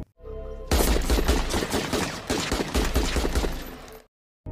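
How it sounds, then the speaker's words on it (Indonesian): Rifle fire during shooting practice in a forest, a loud rapid fusillade of sharp cracks that runs for several seconds without pause, then stops abruptly, with no voices. "ia lekas pergi ke hutan untuk berlatih menembak dengan senapan barunya."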